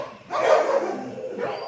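A male German shepherd puppy gives a single short, close bark that trails into a softer whine, followed by a brief second yip, with room noise around it.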